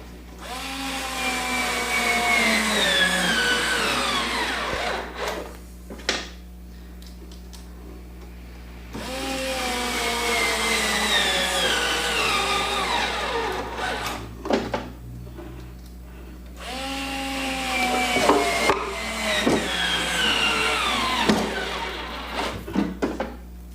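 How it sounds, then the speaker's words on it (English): A power driver sends screws into a wooden drawer front held in a clamp, three long whirring runs that rise and fall in pitch, with short clicks and quiet pauses between them. "This clamp should hold me securely while I drive the screws."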